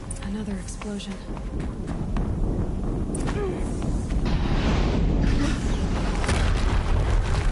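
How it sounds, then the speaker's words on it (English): Explosion in the action game Horizon Zero Dawn: a deep, sustained rumbling boom swells and holds for several seconds, with voices talking over it. "Another explosion."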